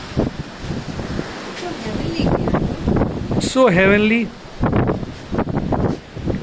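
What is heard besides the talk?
strong wind on cruise ship deck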